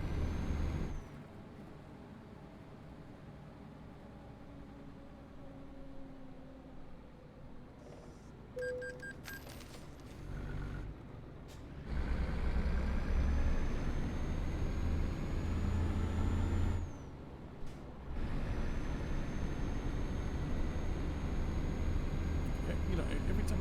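Heavy truck in the video game Euro Truck Simulator 2, with pro mods: steady engine drone and road rumble throughout, a brief hiss, then a louder, deeper engine stretch in the middle before settling back into the steady drive.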